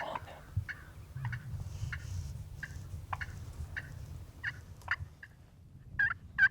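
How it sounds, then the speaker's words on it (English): Wild turkey gobblers gobble again and again from a distance in a spring woodland, each rattling call short and fairly faint over a low, steady rumble of background noise. "the gobblers really started gobbling well"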